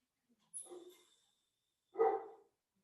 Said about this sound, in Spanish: déjenme ir a correr unos perros que andan acá, a ver. Bueno, a ver si ahorita ya se callan.